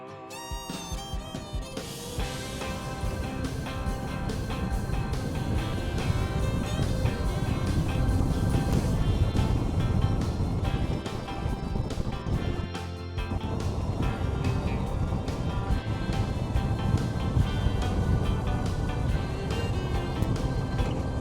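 A 1990 Club Car DS golf cart, a Gator Cart build, driving on a test run, its motor a loud, steady drone that holds for about twenty seconds with one brief dip midway.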